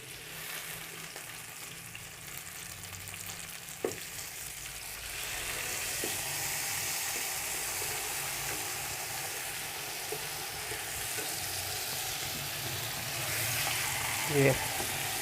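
Fish sizzles and fries steadily on a hot tawa over medium heat, a continuous close hiss that swells slightly near the end, with a few faint clinks from turning the pieces.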